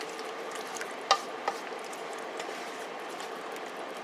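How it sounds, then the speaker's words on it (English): Chicken curry is stirred in a cooking pot, a soft continuous simmering hiss with a couple of sharp utensil scrapes or clinks against the pot. "Stir it up."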